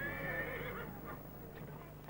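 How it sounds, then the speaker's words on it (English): A horse whinnies once in a high, wavering call, faint and distant, over a steady low background hum. "Oh, there's a lovely horse there."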